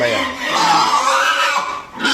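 A pig squeals loudly and continuously nearby, a shrill drawn-out cry that wavers in pitch and briefly drops before rising again.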